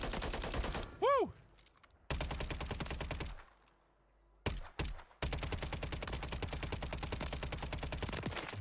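Bursts of automatic gunfire in a shooter video game, rapid rattling volleys broken by short pauses, with a rising whistle-like effect early on and a faint voice underneath.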